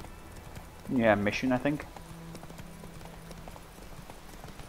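Roach, the horse in the video game Witcher 3, trotting with steady, soft clip-clop hoofbeats in the background while someone talks briefly over it, the hooves continuing faint and rhythmic after he stops.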